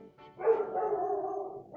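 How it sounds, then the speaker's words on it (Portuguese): A dog barks indoors, a short yip followed by a sustained, whining bark that holds for about a second, loud and close, with no speech. "Aí o cachorro me atrapalha, né?"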